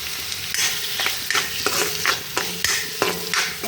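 Papaya seasoned with salt and turmeric is stir-fried in a pan, sizzling steadily while a utensil scrapes and stirs it in repeated strokes about every half second. The cooking is close and moderately loud, with no talking.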